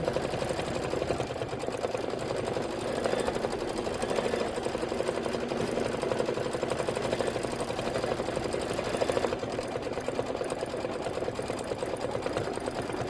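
An embroidery sewing machine runs a satin stitch around a stem on a Kimberbell quilt block, giving a steady, fast, even mechanical whir with rapid needle chatter that holds at one level the whole time, with no talk.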